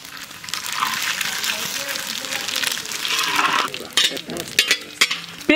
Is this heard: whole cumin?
yes